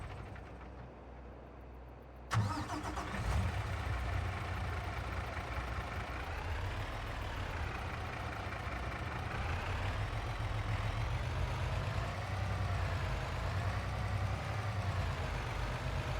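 A farm truck in Farming Simulator 22 starts with an abrupt catch after a quiet moment, then settles into a steady, low, rumbling idle that holds for many seconds.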